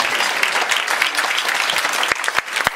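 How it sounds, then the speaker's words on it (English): Sustained audience applause honoring Purple Heart recipients at a luncheon in Plymouth, a dense wash of many hands clapping steadily throughout, with a few sharper individual claps near the end. "you should clap for them"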